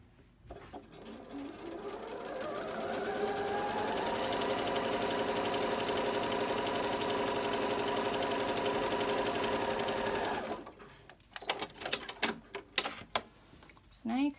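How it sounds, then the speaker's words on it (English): A sewing machine runs steadily for about ten seconds while a shirt seam is stitched, a fast even whirring that speeds up at the start, then stops, followed by a few clicks and handling noises. "And then you're going to sew down that seam."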